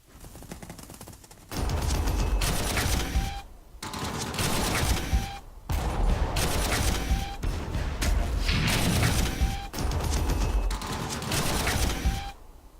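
Artillery bombardment in a Warhammer video game rumbles in repeated heavy bursts of rapid booming fire, each lasting a second or two with short gaps between, loud and close.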